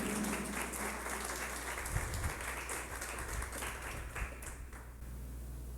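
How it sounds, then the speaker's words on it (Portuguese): Audience applause at an outdoor women's political caravan event in Praça Seca, Rio de Janeiro: a faint, steady patter of many hands clapping at a distance over a low background hum, with a few louder thumps. "eu queria uma salva de palmas calorosas para a nossa presidente do PRD Mulher, Eliane Cunha"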